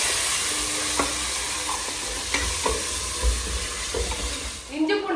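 Ginger garlic paste sautés with onions in a pan as it is stirred, producing a soft, steady sizzle broken by occasional utensil clicks, close and fairly quiet.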